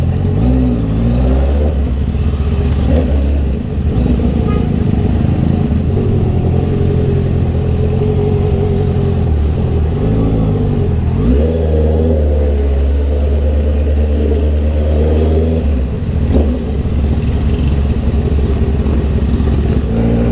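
A Honda CB650R motorcycle engine drones loudly and steadily from the rider's position in road traffic, its pitch rising and falling as the bike accelerates and eases off, with no talking.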